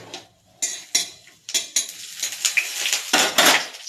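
Bay leaf, dried chillies and whole garam masala dropped into hot oil in a pan, with a series of sharp clattering hits and scraping of a metal spoon over a rising sizzle.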